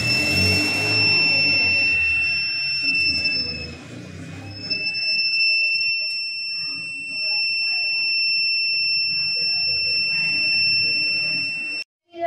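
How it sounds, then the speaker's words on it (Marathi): An electronic buzzer in a school robotics lab circuit sounds once a switch is turned on, a continuous high-pitched tone holding steady for several seconds over faint room noise. "स्विचचे बटन ऑन केल्या, बजरमुळे आपल्याला स्विचचा आवाज कमी जास्त करता येतो"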